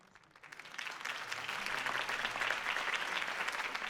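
Crowd applause in Batman: The Telltale Series swells up from quiet and holds steady, a dense wash of clapping heard at a moderate distance.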